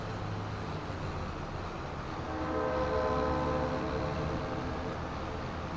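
A train rolls through a farm map in a video game, a low steady rumble that swells in the middle with tonal horn-like bands, moderately loud with no talk.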